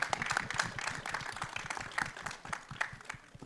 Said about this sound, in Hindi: जोरदार तालियां बजाओ, थोड़ी और बजाओ, बजाते रहो